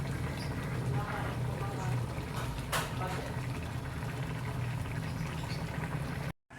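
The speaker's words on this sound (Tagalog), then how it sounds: "Kumukulo na" Fish soup seasoned with tausi bubbles steadily in a pot, a soft continuous simmering hiss with light popping, heard up close and fairly quiet under a speaker's voice, ending abruptly.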